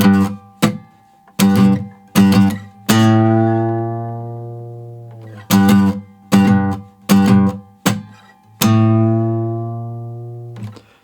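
A guitar plays a riff from Dying Light: The Beast, loud close plucked notes in two matching phrases of short repeated hits ending on a long ringing note, with brief muted percussive strikes and no voice.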